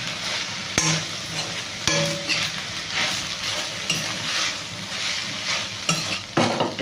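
Green beans frying in a pan with grated coconut-chilli seasoning being stirred, a steady loud sizzle with scraping spoon strokes throughout, no voices.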